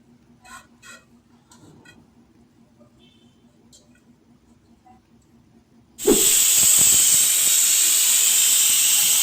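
A pressure cooker holding water and pav bhaji ingredients stays nearly silent at first, with a few faint clicks, then bursts into a loud, continuous steam hiss that holds steady to the end.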